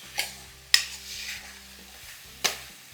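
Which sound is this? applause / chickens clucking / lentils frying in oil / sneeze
lentils frying in oil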